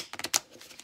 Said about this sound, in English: Great for shuffling. You can do a little bridge, flexible.